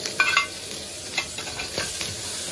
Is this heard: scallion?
yes